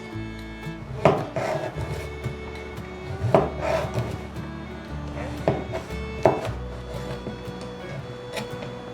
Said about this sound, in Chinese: 把杏鲍菇切片，